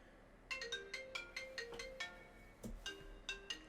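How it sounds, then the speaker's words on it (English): Incoming phone call ringtone playing a repeating bright electronic melody of short chiming notes, fairly faint and steady, pausing briefly before the pattern starts again. "Oh, we got a phone call."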